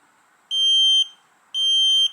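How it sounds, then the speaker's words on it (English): A digital brake fluid boiling point tester, used on the brake fluid of an 8th generation Honda Civic, gives two loud, clear, sustained electronic beeps about half a second long each, spaced a second apart. "with continual beeping"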